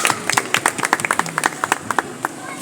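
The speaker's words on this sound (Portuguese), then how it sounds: "Palmas para Yara!" Audience applause at an outdoor Seventh-day Adventist church service, a small crowd clapping in quick scattered claps for a few seconds, near and fairly light.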